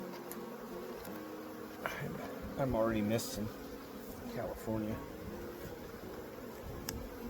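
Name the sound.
honey bees buzzing during hive inspection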